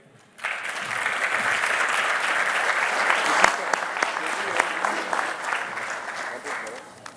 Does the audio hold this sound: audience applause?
yes